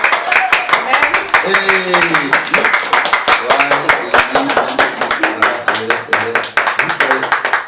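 Congregation clapping at a French-speaking praise service, a steady rapid patter of many hands filling the room, with singing voices and talk running over it throughout.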